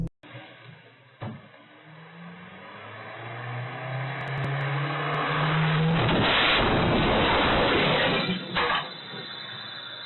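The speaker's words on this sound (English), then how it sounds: "It shows a car speeding directly towards the home without stopping or even slowing down." A car engine revs and grows louder as the vehicle speeds toward a house in Texas without slowing, building to a loud roaring peak before a brief drop, recorded from a doorbell camera.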